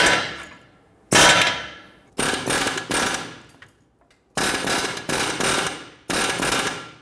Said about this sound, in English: We're going to go ahead and give this a few blips with the air hammer.